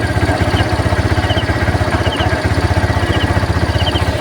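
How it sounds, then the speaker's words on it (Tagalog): Motorcycle engine idling while it warms up, close and steady, with a fast, even putter and a light mechanical clatter and no pauses. "Medyo pinapainit na natin yung ating motor"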